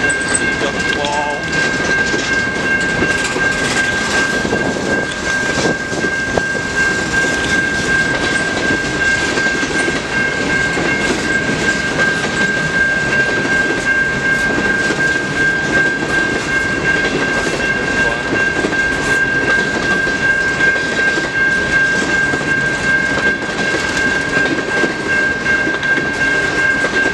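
A CN mixed freight train rolls through the Harrison Ave railroad crossing in Trenton, Michigan, a loud, steady rumble of wagons with clattering wheels and a constant high crossing-bell tone running beneath it from start to end.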